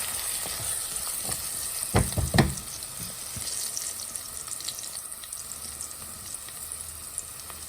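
Medium-sized green chilies frying in hot oil for aloo palak, giving a steady close sizzle with a few louder crackles and stirring knocks early on, no talking.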